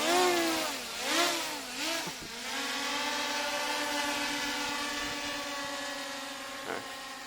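A WLtoys XK X1S 4K quadcopter drone, a 2020 model, spins up its motors for takeoff. A close, buzzing whine wavers and swoops in pitch, then settles into a steady hum.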